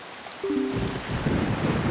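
Rain on the dark, stormy island in the video game Zelda: The Wind Waker HD hisses steadily as a broad wash of noise, swelling after a brief tone early on, with no talking.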